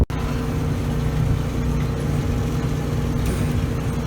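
A steady low tractor engine drone with a constant hum, idling, heard up close from inside the cab while planting corn, running evenly with no voices.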